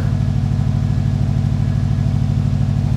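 A car engine runs steadily and close by, a regular low throb with a faint whine on top, the motor of a car whose rusted gas tank was treated with Evaporust while still fitted.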